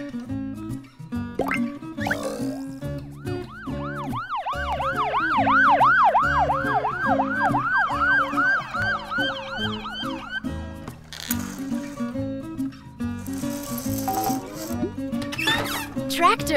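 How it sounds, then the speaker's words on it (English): A police car siren wails in repeated rising and falling sweeps, loud and continuous, with background music playing underneath throughout. "Police car."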